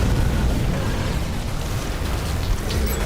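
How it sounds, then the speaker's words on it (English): Artillery explosions in The Riftbreaker, a continuous rumbling wash of overlapping blasts with a deep low roar, loud and steady without clear gaps. "Artillery."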